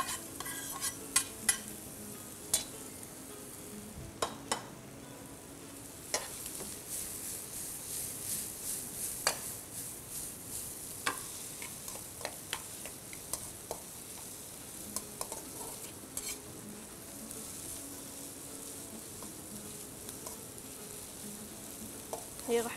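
Vegetables sautéing in a pan with salt and black pepper, a faint steady sizzle broken by sharp utensil scrapes and clinks against the pan, with a few quiet voices in the background.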